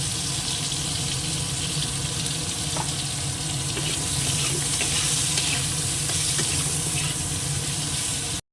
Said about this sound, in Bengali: পটলটা এই যে লাল করে ভেজে তুলে নিচ্ছি